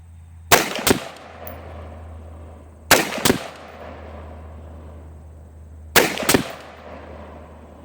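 Rifle fire at an outdoor shooting range rings out as three sharp, loud pairs of quick shots, spaced about three seconds apart, each echoing briefly over a quiet low hum.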